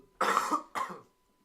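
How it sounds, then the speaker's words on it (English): Two harsh coughs close to the microphone, the first longer and the second shorter, followed by quiet. "that's that really bad cough coming into play."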